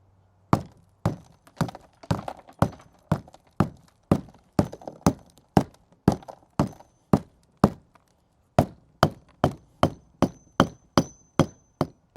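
A hammer strikes a cured dry-pour concrete slab again and again, sharp loud thunks in an uneven but steady rhythm, each hit ringing briefly before the next, alone with no talk.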